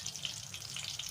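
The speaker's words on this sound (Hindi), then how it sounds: "थोड़ा सा इसे फ्राई करेंगे।" Half a teaspoon of whole cumin seeds fry in hot fat for lentil daal, giving a soft, continuous sizzle with faint crackles, brief and quiet.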